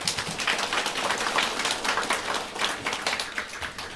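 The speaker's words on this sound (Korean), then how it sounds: "하나님께 영광의 박수 돌리겠습니다." A church congregation at a Korean Sunday worship service claps together, a moderate, slightly uneven patter of many hands continuing steadily with no voices.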